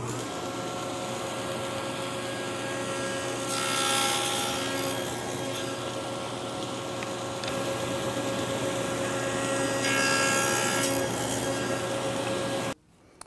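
A table saw with a miter gauge carriage and stop cuts wood, its motor whining steadily throughout while two louder passes of the blade through the workpiece rise and fade before the motor cuts off abruptly at the end.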